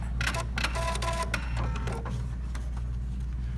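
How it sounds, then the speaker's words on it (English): A Pfaff Performance Icon sewing machine ties a knot and cuts the thread, making a quick run of close mechanical whirring and clicking stitches that fades into a steady motor hum, with no talking. "It'll tie a knot, there's the knot. It'll cut the thread, raise the foot, and pull the threads to the back."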